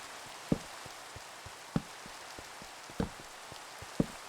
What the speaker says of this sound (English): So, this rain is the worst.